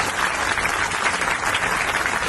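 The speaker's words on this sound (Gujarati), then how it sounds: "એ બદલ એમના માટે આપણે સૌ લોકો તાળીઓ વગાડશું।" A crowd at a Ganesh immersion event in Surat applauds the city police, dense sustained clapping from many hands that stays even and loud throughout.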